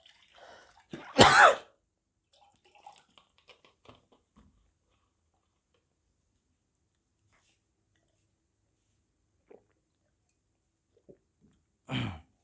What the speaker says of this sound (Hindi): थोड़ा पानी पी लेते हैं, काहे कि थोड़ा तो खांसी आ गया।